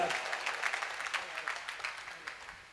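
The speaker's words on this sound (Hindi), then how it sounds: "एक बार ताली बजाओ देखा प्रमोशन सही है ना" Scattered applause from a gathering, a loose patter of clapping hands that gradually thins out, with a voice faintly present.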